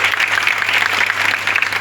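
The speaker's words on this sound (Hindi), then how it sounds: "एक बार जोरदार ताली हो जाए" Vigorous audience clapping at a bridal makeup demonstration forms a thick, unbroken patter of many hands, loud and close, with a faint low hum running beneath it.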